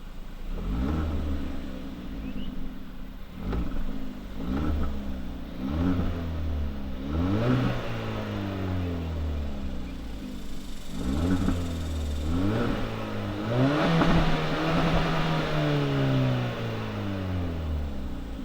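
Engine of a 2019 Hyundai Elantra Sport heard from inside the cabin while driving, a steady muffled drone that rises and falls in pitch through repeated revs and gear changes, continuous and moderately loud with no talking.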